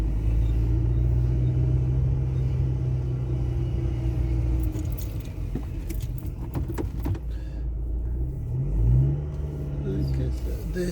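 A car idles with a steady low engine rumble, then moves slowly and pulls up to park outside The Range store in Halifax, with some clattering and a brief rise in engine noise near the end.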